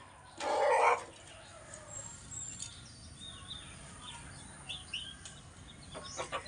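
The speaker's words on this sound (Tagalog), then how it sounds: "Ito mga manok na" Backyard chickens on a rural property. One loud, short squawk or cluck rises early and close, then quieter scattered chirps and clucks follow against a soft outdoor background.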